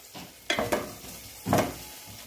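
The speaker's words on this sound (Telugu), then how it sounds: "మనం సాల్ట్ వేసాం కదా, ఇలా కొంచెం ఫ్రై చేసుకోవాలి" Ragi soup vegetables, beetroot and carrot, are fried with salt in a pan: three short, close scraping stir strokes over a faint sizzle, with no talk.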